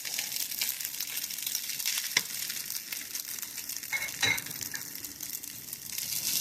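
Tomato paste sizzles in a hot pan for Vietnamese red rice while a utensil scrapes and stirs it, a soft continuous fry with a few louder clanks and no talking.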